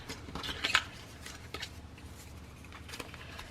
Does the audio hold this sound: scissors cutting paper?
yes